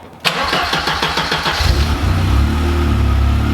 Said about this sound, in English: Let's start the engine and check the fans are coming on